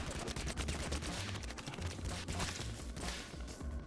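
Dense rapid gunfire in the anime-style fighting game Rounds, a continuous rattling fusillade of overlapping shots lasting several seconds, loud and close with no talking.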